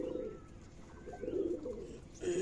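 Pigeons at a Rajshahi pigeon farm give soft, low cooing calls close by, a few rounded coos rising and falling over a quiet background.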